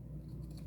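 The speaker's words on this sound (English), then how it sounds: "you're taking your scissors and you're going along the wood piece" Scissors trim fabric along the edge of a wooden coaster in one brief, quiet snipping sound over a low background hum.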